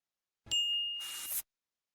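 A single bright notification bell dings, clear and close, with a sustained ringing tone followed by a short shimmery burst, then silence.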